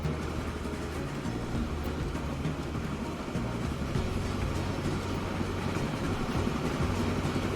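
A train rolls along in the Transport Fever 2 video game: a dense, constant low rumbling drone with faint rhythmic clatter, steady throughout and heard alone without any voices.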